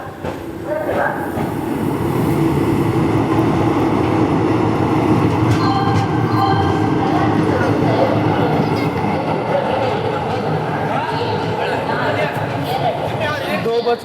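The Vasco da Gama Tirupati Express rolls into Hubli Junction with a loud steady rumble of wheels, rhythmic clacking over rail joints and occasional squeals, close by, while people talk over it.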